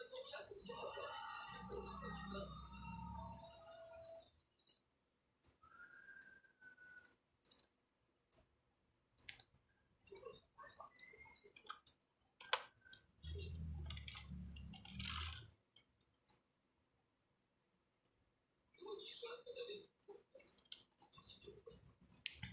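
Computer mouse clicks and keyboard typing, scattered sharp clicks and short bursts of keys at close range, interrupted by a few quiet pauses, with some speech in places.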